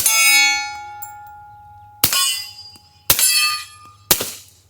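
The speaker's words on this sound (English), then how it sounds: "The sound of the steel is way louder." Shots from a suppressed .45 ACP pistol strike a steel target. Four loud metallic clangs ring out at uneven intervals, and each one rings on and fades, with muffled shot thumps beneath.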